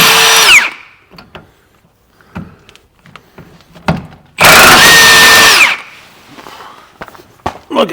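Impact gun loosening a bolt on a Rover 75 wishbone suspension arm: two loud rattling bursts, one short at the start and a longer one midway, with clanks and handling noises between.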